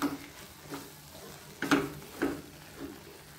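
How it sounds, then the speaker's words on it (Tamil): Oats upma being stirred in a pan: a few soft, scattered spoon scrapes and gentle thuds over a quiet background, close by, with no talking. "இப்போ நல்லா கலந்து விட்டுக்கோங்க"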